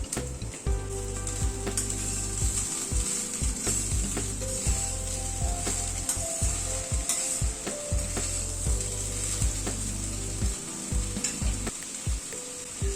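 Cooked rice being stir-fried with spices and a little powdered sugar in a pan, a steady close sizzle with repeated scraping strokes of a spatula throughout, no talking.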